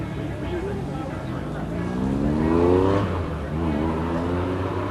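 A 1969 Corvair Corsa revs at the end of a driveway, a fairly close engine note that climbs in pitch, peaks, then drops and settles back toward a steady rumble.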